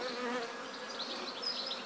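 Honey bees fly around a hive after a Snelgrove artificial swarm, giving a steady, close buzzing hum with individual bees whining past, alone without talk.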